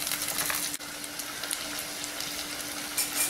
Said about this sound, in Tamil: நல்லா வெங்காயம் பூண்டு ப்ரௌன் கலரில் வரட்டும்.